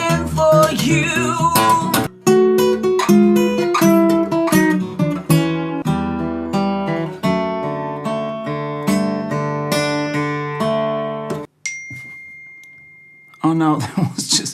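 A mobile phone gives off a single steady electronic tone lasting under two seconds, following a stretch of loud layered music that breaks off abruptly.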